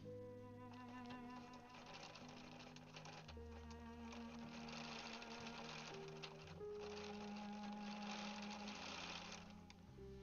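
A Bernina 790 Pro sewing machine quilts in a continuous, close, buzzing hum that changes pitch slightly as it runs. There is no talk.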